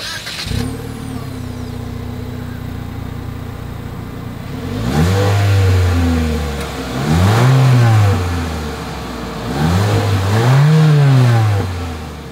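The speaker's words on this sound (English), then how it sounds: "As always, here is that exhaust clip." A 2023 Mitsubishi Eclipse Cross engine, heard through its single exhaust, idles and then revs three times in distinct swells, each rising and falling back to idle, loud and close with no talking.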